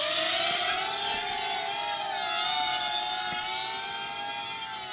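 A WLtoys Q383 FPV hexacopter drone flies without its protective cage, its rotors giving a steady, fairly loud high-pitched whine that wavers slightly in pitch as it moves, with no talking.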